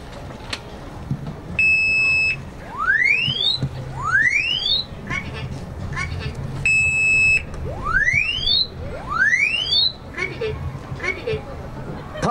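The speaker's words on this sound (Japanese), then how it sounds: "火事を知らせる住宅用火災警報器が大きな音で鳴り出しました。" A loud residential fire alarm repeats during a house fire, with rising sweeping tones and steady beeps in a regular cycle, over background noise.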